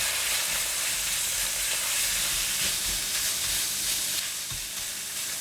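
Minced pork with onion oil and light soy sauce frying in a pan while being stirred, a steady close hiss of sizzling broken by soft scraping strokes, no talking.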